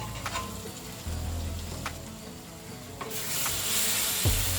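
Masala sautés in oil for a fish curry with a soft, even sizzle and a few light clicks. Near the end the hiss swells louder, as if a lid has come off. There is no speech.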